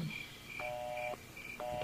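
Cellphone being dialed: evenly spaced electronic keypad tones beep one after another over a quiet indoor background, with no talk.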